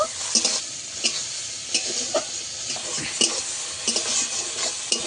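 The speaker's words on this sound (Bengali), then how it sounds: "পেঁয়াজ আর চিংড়ি মাছ আমি একসঙ্গে ভালো করে ভেজে নেব" Onion and shrimp marinated in salt and turmeric fry together in a pan, a close constant sizzle punctuated by regular scraping strokes of a spatula, with no one speaking.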